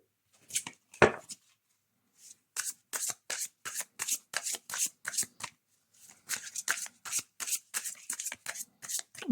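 Tarot cards shuffled by hand in quick, close riffling bursts that come in two runs with a short pause between them, with no talking over them.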